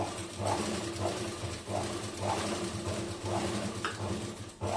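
A tailoring sewing machine runs slowly while stitching, its motor giving a steady close hum with a soft repeating pulse of the needle mechanism about twice a second, with no voices.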